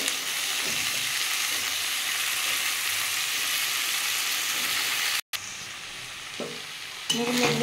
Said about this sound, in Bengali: মূলো শাকগুলো দিয়ে দিয়েছি, এবার এটাকে আমি ভেজে নেবো ভালো করে।